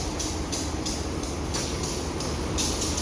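Inside the Lembah Anai passenger train bound for Kayu Tanam, a continuous rumbling ride noise carries a steady, regular clatter from the wheels, with no voices heard.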